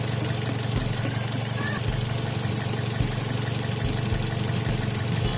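A car engine idles steadily at close range, a low continuous rumble with faint periodic knocks and no talking.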